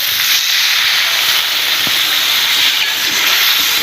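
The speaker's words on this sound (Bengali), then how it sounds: "আমি এবারে থেকে ঝোল দেবো" Broth poured into a hot pan of prawn and potato curry sets off a loud, steady sizzling hiss that fills the whole moment without pause.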